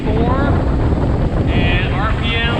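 A Tohatsu 30hp outboard pushes a Gheenoe LT25 at top speed, trimmed all the way down. The motor drones steadily under heavy wind and water rush, and a voice talks over it.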